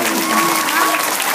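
Audience applause for mariachi performers at a Hispanic Heritage Month celebration: steady, dense clapping from a crowd that holds evenly for the whole short stretch, with a faint sustained tone running underneath.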